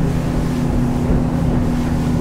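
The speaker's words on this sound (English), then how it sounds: "now let's put the boat through a couple of S turns" A Sea Ray 230SPX motorboat runs hard through S turns, a loud, steady engine roar up close with wind buffeting the microphone.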